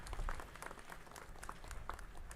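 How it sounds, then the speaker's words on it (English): Audience members at a Los Angeles city council meeting clap for visiting home care workers, a soft, fairly distant patter of applause that holds steady throughout. "A round of applause to them."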